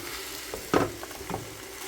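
A spoon stirs canned black beans into turkey taco meat in a pan. There is a soft sizzle, with one louder scraping stir in the middle and a quieter one near the end.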